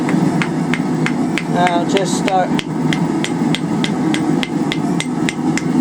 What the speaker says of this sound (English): let's go over the horn of the anvil and bend her around